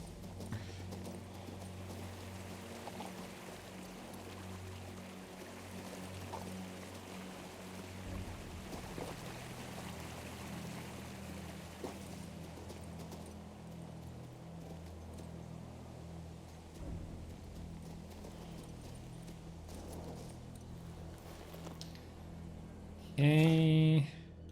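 Horse hoofbeats from riding in the video game King's Bounty 2, a steady clip-clop running under a low ambient game backdrop, fairly quiet throughout, with a brief louder chime near the end.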